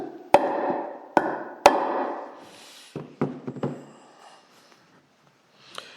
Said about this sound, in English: I'm just going to give it a couple of taps, see if it moves.